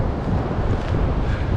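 Wind gusts across a beach at Anastasia State Park in St Augustine, Florida, a steady low rumbling buffet against the microphone with no voices heard.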